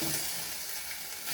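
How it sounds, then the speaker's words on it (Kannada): Tomato and chillies fry briefly in a little oil, giving a close, even sizzling hiss that runs unbroken throughout. "ಅಂದರೆ ಎಣ್ಣೆಯಲ್ಲಿ ಫ್ರೈ ಮಾಡ್ಕೋಬೇಕು, ಜಾಸ್ತಿ ಬೇಡ, ಸ್ವಲ್ಪ."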